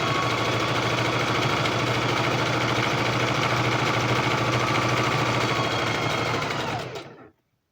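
Sewing machine stitching fabric at a brisk pace, a loud, steady motor hum with rapid needle chatter running continuously for about seven seconds before stopping abruptly.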